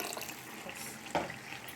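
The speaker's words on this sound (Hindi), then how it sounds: "थोड़ा सा पानी और डालेंगे" Water pours briefly into a pot of dal, a soft running splash with a slightly louder burst near the end, fairly quiet and close.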